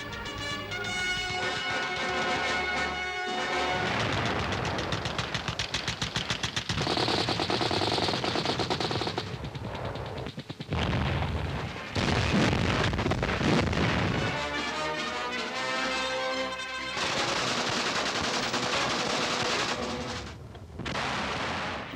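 A 1940 color war film reenacting the Battle of France is full of rapid, dense machine gun bursts and heavy artillery booms, loud and nearly continuous with brief pauses between volleys.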